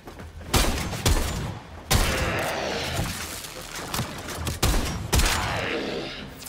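Primary weapon gunfire in Warframe: repeated loud, punchy shots in uneven bursts, each followed by a dense crackling rumble, close and continuous over several seconds.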